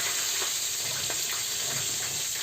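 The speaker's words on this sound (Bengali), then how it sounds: "বেগুন ভাজাটা মানে এক এক করে সব সবজিগুলো আমি ভেজে নেব" Eggplant (brinjal) pieces frying in hot oil make a steady, close sizzle and hiss that runs unbroken throughout, with no talking.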